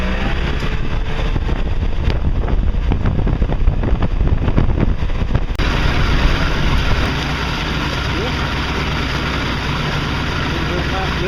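A Johnson/Evinrude outboard motor runs in the water and cavitates, giving a steady loud engine roar with heavy wind buffeting on the microphone; the tone shifts partway through.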